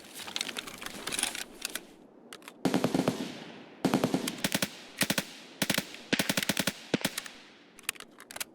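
Bursts of automatic gunfire in Escape from Tarkov rattle out in several short volleys separated by gaps, each burst a rapid string of cracks, moderately loud and somewhat distant, with no speech over them.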